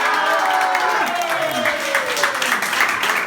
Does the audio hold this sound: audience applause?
yes